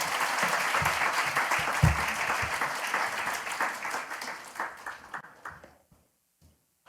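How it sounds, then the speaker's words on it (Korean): A church congregation applauds during a Sunday morning worship service as the pastor comes forward, dense sustained clapping that thins into scattered claps and fades to near silence at the end. "나오실 때 큰 박수로 맞이해주겠습니다."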